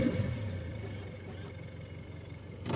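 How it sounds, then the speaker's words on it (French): Engine of a Wettoncraft 56 amphibious boat starting up and settling into a steady mid-pitched running drone, fairly close, with a fresh surge near the end. "mise en route du moteur"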